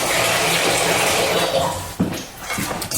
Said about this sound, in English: I'm going to put this straight to the sink with some hot water in it